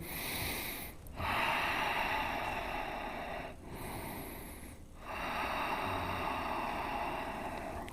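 Loud, deep breaths during a vinyasa yoga flow, long airy inhales and exhales with brief pauses between them, heard close and alone with no talking.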